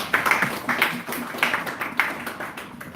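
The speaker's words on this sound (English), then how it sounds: "Round of applause for the team." Audience clapping for a project team at a conference talk, a steady patter of many hands with irregular louder bursts, moderately close and mixed with crowd murmur.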